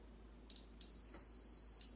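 A DSC security system keypad gives a clear electronic beep tone after its chime button is pressed and held. The tone starts with two short chirps, then holds as one long steady beep in a quiet room.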